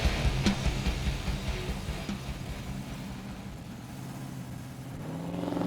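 A Ford hot rod Sport Coupe's engine idles steadily and evenly, a low rumbling hum at moderate distance that swells slightly toward the end, with no voices over it.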